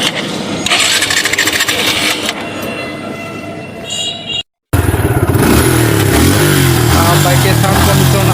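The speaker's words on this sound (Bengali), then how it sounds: "বাইকের সাউন্ড কন্ডিশন যদি শুনি" A used Suzuki Gixxer Monotone motorcycle engine runs loud and close, first a rough steady idle, then after a brief cut it revs with a rising and falling throaty drone.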